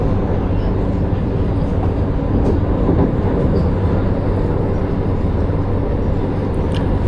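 Vande Bharat express train arriving at Tripunithura station, a loud, steady rumble and rattle of the carriages rolling on the rails that continues throughout with no break.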